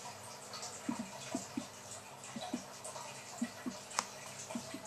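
Nut brown ale home brew from a Muntons Connoisseurs kit fermenting, giving small irregular bubbling pops and drips, faint and close, scattered across a quiet background with no talking.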